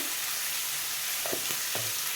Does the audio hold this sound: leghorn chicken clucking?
no